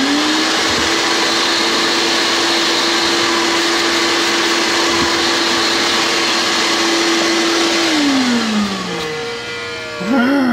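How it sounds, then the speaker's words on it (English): A shop vacuum with failing bearings runs with a loud, steady whine and rough grinding underneath, then winds down near the end before starting again. "my vacuum cleaner is dying. That's the sound of the bearings going"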